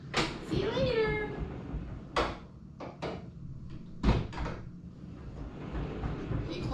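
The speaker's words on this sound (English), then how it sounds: "I like these sliding doors." A sliding bathroom door in a Pop Century Resort room at Disney World rolls shut with several close knocks and a heavier thump as it meets the frame, after a brief voice at the start.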